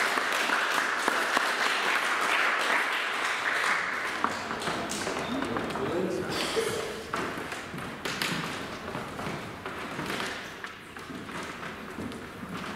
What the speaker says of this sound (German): Herzlichen Applaus